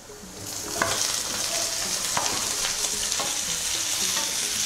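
Chopped tomatoes hitting hot sautéed onions in a pan for Kerala-style tomato rice, bursting into a loud, steady sizzle with a few stirring scrapes through it, close and continuous, with no voices.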